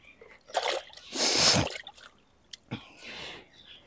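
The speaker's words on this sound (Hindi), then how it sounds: "चारों पैरों को हम इस तरीका से पोटेशियम के पानी में डुबाएंगे।" A goat's feet are dipped into a basin of potassium permanganate water, giving a few close splashes and wet sloshes in short bursts with quiet gaps between them.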